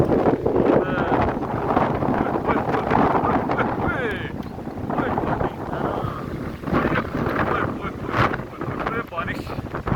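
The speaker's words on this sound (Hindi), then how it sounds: "ऊपर तो भाई ऐसी तेज़ हवा, बारिश शुरू हो गई है" Strong wind buffets the microphone in loud, continuous gusts as rain begins, with people talking underneath.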